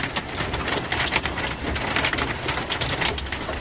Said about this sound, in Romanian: Continuă să plouă.